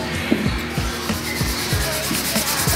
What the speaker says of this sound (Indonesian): kemudian digosok ulang sampai merata hingga kerat-keratnya jamurnya yang ada di velg hilang